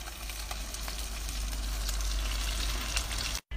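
Fish deep-frying in hot oil in a rural Chinese kitchen, a steady dense crackling sizzle running continuously at close range, with a brief dropout near the end and no voices.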